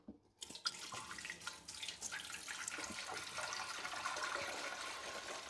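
Water pours into an AC Infinity Cloudforge T3 humidifier tank, starting after a brief silence and continuing as a steady splashing, gurgling stream close to the microphone.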